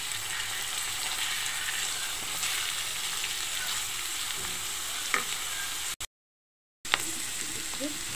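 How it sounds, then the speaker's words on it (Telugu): Moong dal and ridge gourd fry in a pan with a steady, close sizzle and occasional stirring scrapes. The sound cuts out briefly for a moment, then the frying resumes. "ఇప్పుడు పెసరపప్పు కూడా వేసేసి మనం బాగా వేగించుకుందాం."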